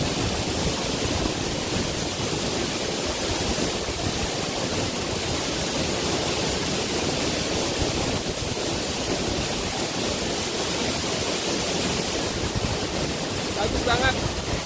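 Kipoan Kebo waterfall at Batu Liti in Tabanan, Bali, with water dropping from a high cliff. It gives a continuous, dense, loud roar of rushing water with wind buffeting the microphone and no pauses.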